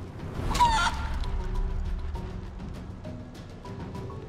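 Squawk of a chicken transformation in the video game Divinity: Original Sin 2, a brief honking fowl cry near the start over a busy game soundscape with low rumble and scattered effects.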